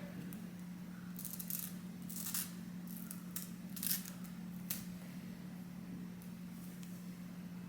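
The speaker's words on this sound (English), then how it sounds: "let's cut off all this excess lace over here." Scissors snip off excess lace from a 26-inch ash blonde lace frontal wig in several crisp, close cuts, clustered together over a low, steady background hum.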